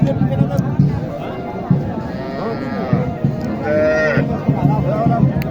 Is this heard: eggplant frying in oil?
no